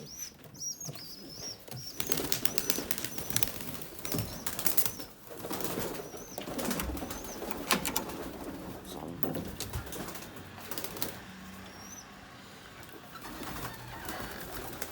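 Pigeons coo and flap their wings on a balcony, with wingbeats bursting in repeatedly and soft bird calls scattered throughout, alongside rustling and handling noise nearby.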